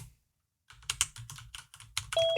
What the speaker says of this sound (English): You are actually typing